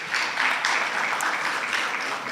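Audience applause at the Heritage & Tourism Indaba 2023, a conference crowd clapping steadily and evenly for a couple of seconds, moderately loud and with no talking over it.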